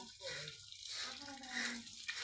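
Water splashes and pours over a cow during calving, a faint continuous wash with a voice murmuring faintly underneath.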